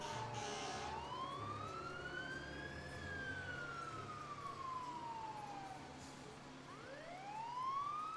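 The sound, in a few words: fire truck sirens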